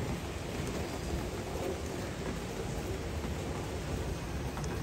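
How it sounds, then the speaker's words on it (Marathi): Heavy rain pours down steadily, a dense, even hiss of water that fills the scene without a break from start to finish. "सो खूप जास्तच पाऊस पडतो आहे आज"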